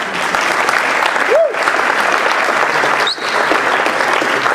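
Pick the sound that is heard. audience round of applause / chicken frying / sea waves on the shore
audience round of applause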